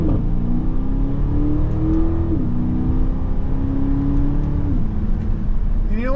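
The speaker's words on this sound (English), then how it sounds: "we're going to see how this goes in manual, see how this shifts." A 2023 Aston Martin DBX engine pulls hard under steady acceleration, its rising drone dropping cleanly at two manual upshifts, loud and close throughout with no talking.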